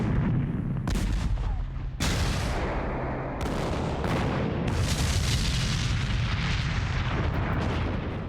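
Naval gunfire from the cruiser Savannah bombarding enemy positions in Sicily in 1943: a series of heavy, booming blasts roll into one another over a continuous deep rumble, loud and without any voices.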